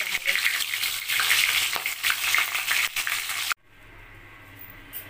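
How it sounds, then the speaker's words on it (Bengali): Fish heads frying in hot oil in a pan, a loud close crackling sizzle for several seconds, then cutting to a much quieter hiss. "এইভাবে মাছের মাথাগুলোকে ভেজে নিতে হবে।"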